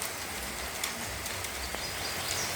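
Heavy rain falling on forest, a dense, steady hiss with scattered drip and splash ticks and a faint bird call or two, continuous and without talking.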